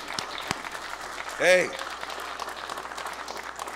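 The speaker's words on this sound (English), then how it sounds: "I want to give the Teamsters a round of applause." An audience claps in a steady round of applause for the Teamsters at a book talk, with a short shout cutting through near the middle.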